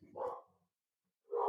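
A dog gives two short, loud barks about a second apart, with silence between them and no one talking.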